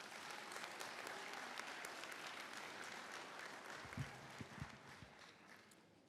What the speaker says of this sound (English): So let's give them a round of applause one more time.